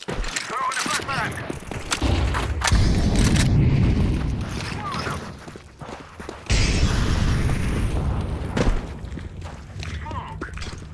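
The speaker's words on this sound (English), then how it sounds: "Throwing a flashbang." A flashbang grenade thrown in a Counter-Strike 2 match bursts amid a loud, dense run of gunfire, booms and footsteps that goes on throughout the stretch.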